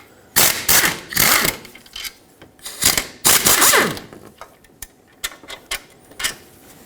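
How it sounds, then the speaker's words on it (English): A ratchet loosens two 15mm alternator bracket bolts on a 2.4L Jeep Wrangler engine, giving close, sharp bursts of rapid clicking followed by scattered lighter clicks. "So I'm just going to unbolt it, two 15mm bolts."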